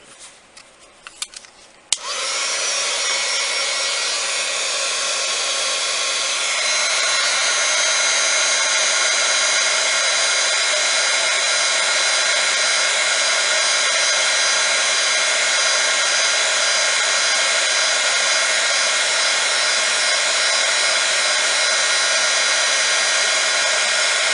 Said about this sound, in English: And we'll get the heat gun again.